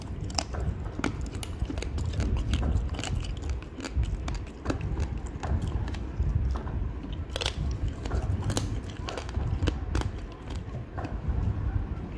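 Loud, close crunching as someone bites and chews crispy roasted lechon pork belly, sharp crackly bites repeating irregularly over continuous chewing, with no talk.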